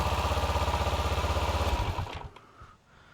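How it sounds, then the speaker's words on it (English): Engine starter motor cranking in a no-start diagnosis, a rapid steady pulsing churn for about two seconds that then slows and dies away into quiet. "when I go to start this again, we should see 12 volts here, just as long as the starter runs"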